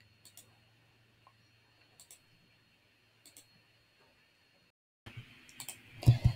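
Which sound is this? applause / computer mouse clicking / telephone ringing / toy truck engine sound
computer mouse clicking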